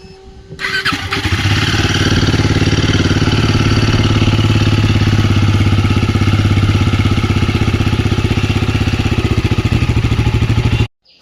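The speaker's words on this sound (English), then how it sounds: "This is the sound of my motorcycle with the stock filter." A Royal Enfield Guerrilla 450 motorcycle with its stock air filter starts and settles into a steady, loud idle with a rapid, even thumping pulse, close by, then cuts off abruptly at the end.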